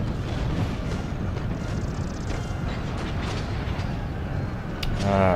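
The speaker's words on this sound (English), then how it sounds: "Oh, hand mortars." Hand mortars firing amid battle noise in Empire: Total War, a dense continuous rumble of distant artillery and gunfire, with a sharper burst near the end.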